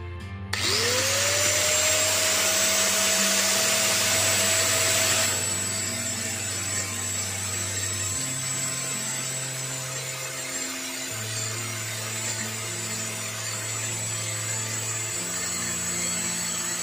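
An Ossel GT100 angle grinder spins up and runs steadily at no load, a loud continuous high whine with a rising pitch at startup, then holding level for the rest of the run.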